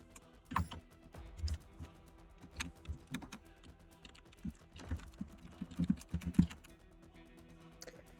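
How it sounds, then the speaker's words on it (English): Quick bursts of typing on a clicky mechanical computer keyboard, irregular clacks scattered across the stretch, faint and slightly distant, with no talking over them. "I hate clicky clacky keyboards."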